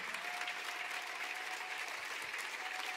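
A church congregation applauding the Lord during worship, a steady, even wash of many hands clapping at moderate distance, with a faint sustained tone running beneath and no talking.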